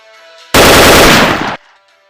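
Gunfire in a Telugu film scene, a single loud, sustained burst of rapid machine-gun fire lasting about a second, very close and overwhelming, ending abruptly into quiet.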